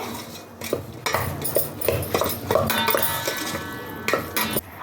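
A spoon stirs a bitter gourd chutney mixture in a metal bowl, with repeated scraping clinks and knocks against the sides in an uneven rhythm, close and fairly loud, with no voices.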